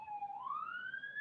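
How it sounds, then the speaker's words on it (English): An emergency vehicle siren wails outside, a single rising tone sweeping steadily upward, faint and distant, with no talk over it. "I'm just gonna let that ambulance pass or the siren, whatever it is"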